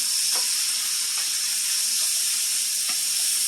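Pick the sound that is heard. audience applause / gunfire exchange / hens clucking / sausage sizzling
sausage sizzling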